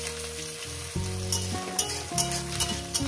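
Chopped onion fries in a pan with a steady sizzle and light crackling, while low tonal background music plays underneath.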